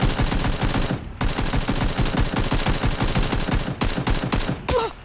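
Rapid automatic gunfire in the battle royale game PUBG, loud bursts of close shots with short gaps between volleys and no talk over them.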